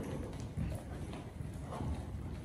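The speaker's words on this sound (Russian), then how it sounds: "Еще раз переходим в рысь." Horse trotting under a rider during a riding lesson, hooves beating a steady, even clip-clop rhythm of several strikes at close range with no talk.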